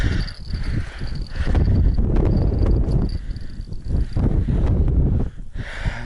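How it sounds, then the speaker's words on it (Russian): Strong wind over a frozen taiga lake buffets the microphone in a continuous, rumbling roar that surges and eases throughout, with no voices. "Вот это ветроган, ребятки, конечно."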